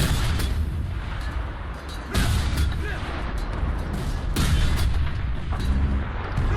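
Heavy tank cannon blasts boom amid a constant roaring rumble in the video game War Thunder, several sharp explosive hits spaced a couple of seconds apart, loud and dense.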